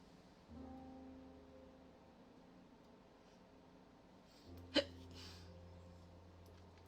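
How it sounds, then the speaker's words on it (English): A single sharp hiccup bursts out alone over quiet room tone, close and loud, with faint low hum before and after. "Ugh, hiccups."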